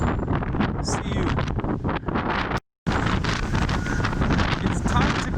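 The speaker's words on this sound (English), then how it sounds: "It's getting windier. A lot windier." Strong wind over the sea roars and buffets the microphone continuously, a loud rumbling gusty rush with a brief cutout partway through.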